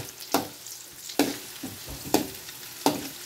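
Garlic, onion and ginger being sautéed in a pan for pork bopis, with a steady soft sizzle broken by four sharp scraping stirs of the spatula at even intervals, close by and with no talking.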